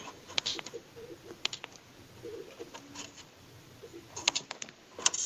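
Pigeons coo softly nearby, low burbling calls mixed with scattered fluttering and scratchy taps against a quiet background.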